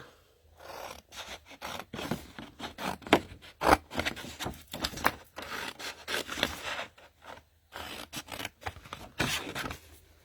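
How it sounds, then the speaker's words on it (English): Scissors snip and rasp through craft material for a box with a lid and two drawers, a run of close, irregular cutting and scraping strokes with brief pauses, no talking. "Let's cut the other one."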